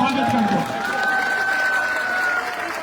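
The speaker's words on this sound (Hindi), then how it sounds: "एक बारी ताली बजा के इनका स्वागत कर दो" An audience at a political gathering in Chautala claps to welcome a politician, a steady, dense patter of applause filling the space with no pause.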